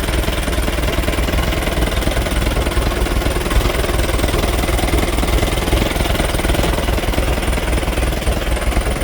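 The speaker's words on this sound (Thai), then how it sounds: "เนี่ยเสียงเครื่อง" A loud, rattling engine of a Toyota 3-cubic-metre dump truck with a 110-horsepower engine runs steadily up close, its harsh clatter unbroken from start to finish.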